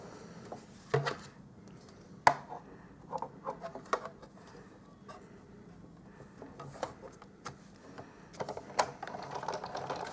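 Scissors snipping small branch shapes out of Pear Pizzazz cardstock, a quiet string of crisp cuts and paper rustles in an irregular rhythm, close by and with no talk.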